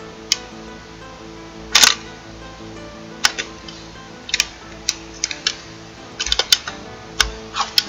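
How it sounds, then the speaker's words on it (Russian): A Fotosnaiper photo-rifle camera with a loud manual shutter fires repeatedly, giving a series of sharp mechanical clicks at irregular intervals, close and crisp over a quiet background. "Громкий затвор."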